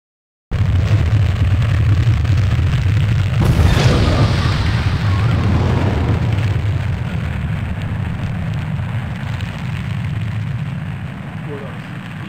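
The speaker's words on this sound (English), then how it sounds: "We have explosions." After a moment of silence, a heavy rumble starts, then a loud blast erupts and slowly fades into a long, roaring tail of debris-like noise.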